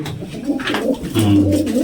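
Loose, free-flying pigeons kept by a fancier coo loudly and close by, with a rolling, continuous throaty call that swells toward the end.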